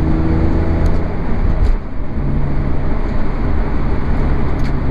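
A BMW E46 M3 being driven gives a loud, steady engine and road drone that fills the whole stretch, with a brief dip partway through and no talking.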